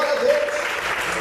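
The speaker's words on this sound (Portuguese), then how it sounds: "Aplaude o Senhor bem forte" A church congregation applauds during a sermon, a short burst of continuous clapping with a brief voice riding over it at the start.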